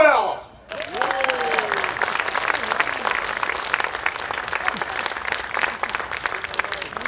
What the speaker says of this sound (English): let us give a heartfelt round of applause to